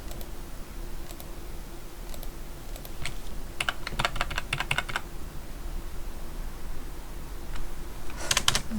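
Computer keyboard keys are pressed for a Ctrl+Shift+G shortcut while working in Illustrator: scattered close clicks, then a quick burst of rapid typing in the middle and another short flurry at the end, over quiet room noise.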